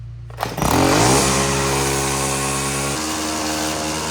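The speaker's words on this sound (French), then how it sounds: "le dernier truc que je dois faire, c'est passer un coup de débroussailleuse autour de la piscine parce qu'il y a des petites herbes qui poussent" Brush cutter trimming small weeds around a pool at a house in Australia, the engine revving up sharply then droning at a steady high pitch, loud and close.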